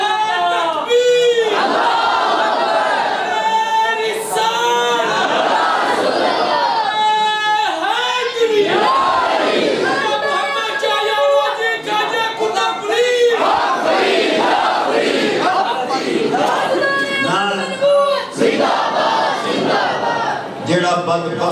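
Large crowd at a religious gathering loudly chanting the Labbaik slogan, a dense, sustained roar of many voices in repeated surges that fills the whole stretch.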